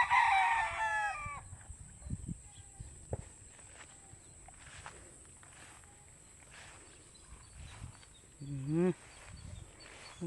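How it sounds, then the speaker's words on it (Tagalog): A rooster crows loudly at the start, followed by quiet clucking and rustling footsteps, with another short call near the end. "Si Rico ang utusan niya na magpakain muna sa kanyang mga manok."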